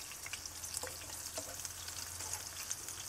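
Italian meatballs filled with two kinds of cheese fry in a slightly non-stick pan, giving a steady, soft crackling sizzle with scattered pops and faint stirring sounds, and no talking.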